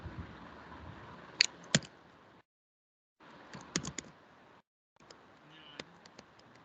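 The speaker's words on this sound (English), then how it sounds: "Here I will type now." Keys tapped on a computer keyboard in short clusters of sharp clicks, separated by brief silent gaps, close and fairly quiet over faint room noise.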